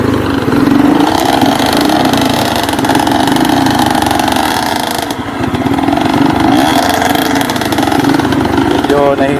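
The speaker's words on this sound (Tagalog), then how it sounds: "Medyo nahihirapan yung KTM ah, pero naka-flat na yan." A KTM trail motorcycle labours on a slippery virgin forest trail, its engine droning and revving loudly and close without a break, while a person talks over it.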